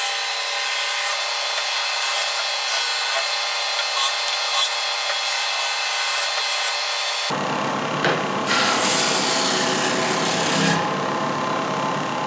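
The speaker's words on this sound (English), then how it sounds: "Do a little touch-up sanding" Touch-up sanding on wooden dividers for a lazy Susan shoe carousel: a steady, close rasping rub that runs the whole time and turns thinner and brighter partway through, with no talking.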